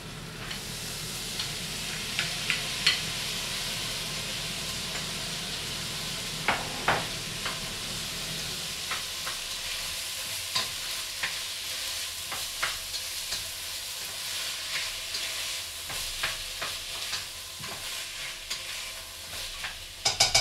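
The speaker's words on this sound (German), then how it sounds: "stelle das Ganze jetzt wieder auf den Herd, gebe meine Erbsen dazu, lasse das nochmal so leicht anschmurgeln" Peas sizzle gently in a pot on the stove while being stirred, a soft constant frying hiss broken by irregular scraping and clicking of the spoon against the pot, close and steady.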